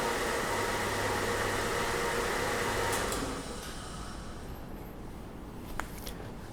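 A car engine idles steadily at first for an injector measurement, then the running noise drops away partway through as it is shut off, leaving a quieter hum and a faint click near the end, with no talking.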